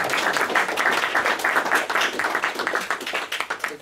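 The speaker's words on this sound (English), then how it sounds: "Yes, applause." Audience applause at a roundtable panel on the Polish parliamentary elections: dense, sustained clapping from a room of listeners, steady and fairly loud for a few seconds, thinning slightly toward the end.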